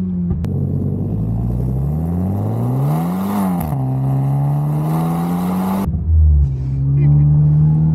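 A Hyundai N-Line race car engine revs loudly and steadily, pitch climbing and dipping, then cuts off abruptly before idling again.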